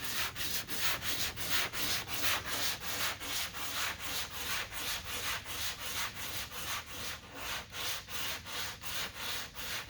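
Hand sanding 2K primer along a car body line with cross strokes, a rhythmic rasping scrub repeating about twice a second, close and steady, with no talk.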